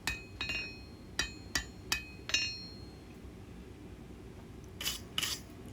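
Hammer blows smooth a forged steel knife blade: a quick run of six crisp, ringing metal strikes, then a pause and two softer taps, close up with no talking.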